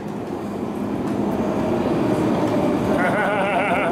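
A Moscow metro train running loud and close, a continuous rumbling roar of wheels and motors with a rising whine toward the end.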